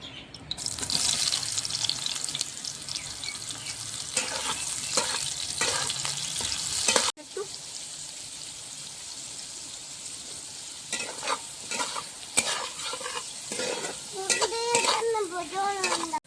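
Steamed lentil dumplings (bori) fry in hot oil in a wok with a loud, steady crackling sizzle, broken by spatula scrapes and stirring clatter and a brief cut partway through.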